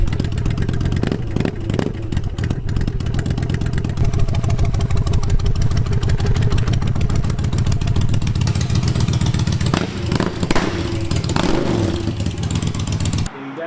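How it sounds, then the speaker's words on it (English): A 2012 Yamaha V-Star 1300 motorcycle engine runs loud and close with a steady throbbing rumble throughout, briefly rising as it revs, and cuts off abruptly at the end. "Now we have a 2012 Yamaha V-Star 1300."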